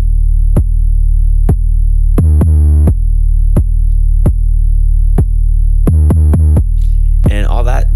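Deep 808 bass notes processed through a 16-bit downshifting bit crusher in Logic pound out in a steady pattern, loud and distorted with added gritty top end and some pitch-gliding hits, alone without voices.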